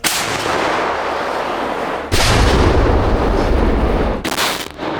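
Heavy tank gun blasts boom at close range in a forest, three concussive shots with rolling echoes filling the gaps between them, loud and uninterrupted by voices.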